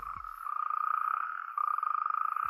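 A loud, sustained rattling trill from a natterjack toad's mating call rolls on without pause, briefly dipping and then resuming, close by and alone.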